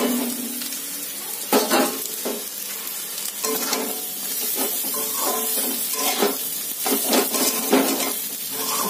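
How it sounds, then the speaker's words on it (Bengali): Egg and chicken frying with potatoes for chowmein, a busy sizzle broken by repeated scraping and clattering of a spatula against the pan, close and fairly loud. "এবার আমি এর মধ্যে আরেকটু ভেজে নেবো ডিমটা আর"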